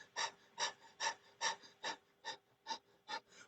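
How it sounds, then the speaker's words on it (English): Rapid rhythmic breathing through the nose, eight or nine quick, even puffs about two per second, close and fairly quiet, with no talking. "breath of fire is in through your nose and out through your nose, kind of like you're panting"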